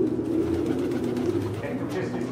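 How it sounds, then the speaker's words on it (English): Wild passenger pigeons coo in a dense, steady flock murmur that stays low and continuous, with voices mixed in among the birds. "These are the wild pigeons, also known as passenger pigeons."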